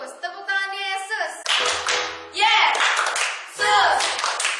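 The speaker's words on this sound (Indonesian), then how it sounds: "Coba kita tepuk tangan Yesus, tepuk tangan Yesus." Children clap their hands in rhythm during a Sunday school service at GBI Avenuel church, sharp claps blending with group singing and an adult voice leading at close range.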